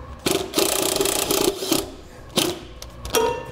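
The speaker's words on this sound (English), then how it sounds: "what I did is a 1/4-inch socket with our self-tapping screw" A self-tapping screw is driven with a 1/4-inch socket driver while a trailer wiring harness is installed on a vehicle. A close, loud whirring drive runs in several bursts, with short pauses and sharp catches between them and no speech.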